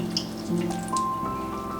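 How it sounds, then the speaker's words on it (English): Water drips and trickles as blanched ramps are squeezed by hand in a kitchen, a few close, distinct wet drops and squishes over a faint tonal hum, with no speech. "I'm going to first squeeze as much water out of there as possible."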